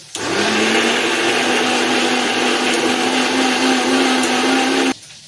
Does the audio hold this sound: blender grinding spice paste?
yes